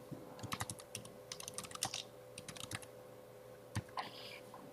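Bursts of typing on a computer keyboard, quick clusters of close, crisp key clicks with short pauses between them and a faint electrical hum underneath.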